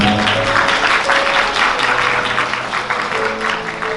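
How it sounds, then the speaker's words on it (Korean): Warm applause from wedding guests during the ring exchange at a wedding hall ceremony, a steady wash of many hands clapping throughout, close and fairly loud, with faint background music tones. "따뜻한 박수 한번 부탁드습니다"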